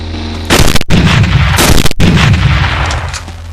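Heavy cannon blasts in the top-down shooter Teleglitch during a boss fight: two or three loud, booming shots in quick succession with rumbling tails, very close and with no talking.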